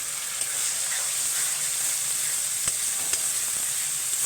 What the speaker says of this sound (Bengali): এবার এই পেস্টটা আদা লঙ্কা আর গোলমরিচ পেস্টটা দিয়ে দিচ্ছি।